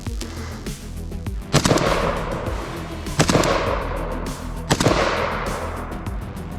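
Three loud rifle shots fired through a JMAC FRD or Lantac Dragon muzzle brake, spaced about a second and a half apart, each a sharp concussive blast with a ringing decay, over a noisy outdoor range background.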